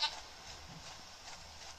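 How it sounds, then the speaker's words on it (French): A goat in The Witcher 3 bleats faintly against steady game background noise, with a brief call near the start. "Elle est mal éduquée, sa chèvre."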